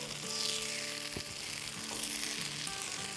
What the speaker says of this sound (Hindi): और अब ये अंडे को हम पलट लेंगे इस तरह।